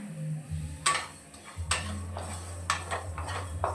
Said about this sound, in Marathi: आता आपल्याला हे सगळे मसाले सुकेच भाजून घ्यायचे आहेत।